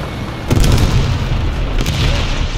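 A bomb explosion in the War Thunder tank game, a single loud, deep boom about half a second in that rolls into rumbling, with a second fainter burst near the end.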